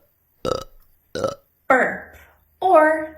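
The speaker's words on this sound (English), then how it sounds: "Burp or belch. To burp, to belch. A burp, a belch." Four separate belches in a row, each a short loud burst with brief gaps between, the last two longer and more drawn out, heard alone and close.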